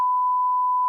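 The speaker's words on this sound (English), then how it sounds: "That's why they beeped it out twice." A single steady censor beep, a pure continuous tone lasting just under a second that bleeps out a word in a country rap news show.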